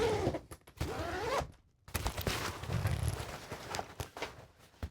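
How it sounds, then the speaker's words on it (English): A zipper pulls open the main compartment of a camera backpack in a couple of close, scratchy bursts separated by a brief pause, with light handling noise around them. "So let's open up the main compartment here. So that's this zipper here."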